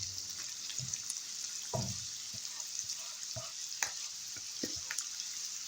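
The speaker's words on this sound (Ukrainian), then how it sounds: "Буду смажити тепер овочі." Onion and carrot sizzle steadily in a hot pan, with scattered clinks and scraping of a utensil stirring them, close up.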